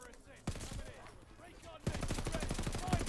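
Rapid automatic gunfire in Call of Duty: Vanguard, light machine gun rounds punching through a wall, bursts from about half a second in and then a sustained rattling stream, loud and close, with faint voices underneath.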